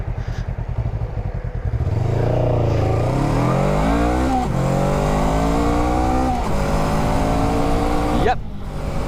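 A Honda Rebel 500 motorcycle accelerates hard from a standstill on a wet road, the engine note climbing steadily through several gear changes with brief dips between shifts, loud and close with a constant rushing wind noise.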